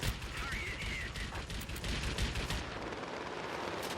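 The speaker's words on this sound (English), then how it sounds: "There's someone firing at me." In World of Warplanes, enemy gunfire rattles at a Mitsubishi A6M1 Zero fighter in rapid, continuous bursts over a loud engine drone, thinning out toward the end.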